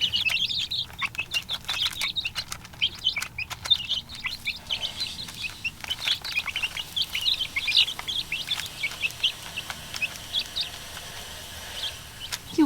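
Young backyard chickens chirping and peeping in a coop, many high, quick chirps overlapping continuously at moderate distance, with occasional rustling and wing flutters.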